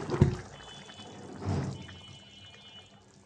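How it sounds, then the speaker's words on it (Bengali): Rohu fish curry with potato and tomato poured from a cooking pot into a bowl: a soft wet slosh and spatter, a brief clatter at the start, then a gentle rush of thick liquid trailing off quietly. "তো মাছটা এখন এই বলে ঢেলে নিব"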